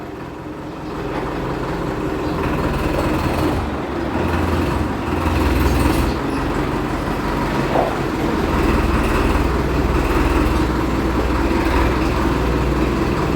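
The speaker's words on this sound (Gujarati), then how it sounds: "ટ્રેક્ટર અંદર આવે હે।" A tractor drives in on a farm, its engine giving a loud, steady rumbling drone that holds for the whole stretch with only slight swells.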